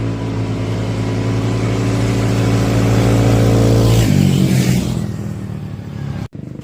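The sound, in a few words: ATV engines revving at race start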